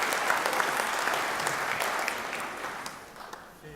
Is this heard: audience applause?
yes